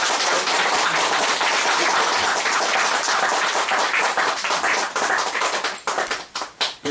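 An audience at a book talk gives dense, loud applause, sustained at first and then thinning into scattered individual claps near the end, with no voices over it.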